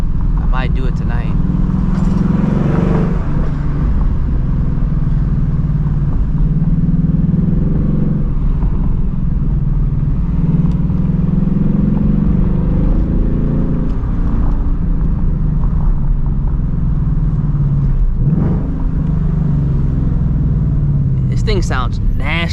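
A 2024 Ford Mustang GT driving through city streets, its deep engine rumble steady and loud throughout from inside the car, with someone talking over it.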